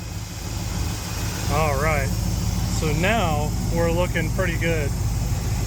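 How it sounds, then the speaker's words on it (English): A 1972 Ford F750 pickup engine idles steadily at close range, a low, even rumble that runs throughout while someone talks over it. "we're idling with 15 degrees of initial timing"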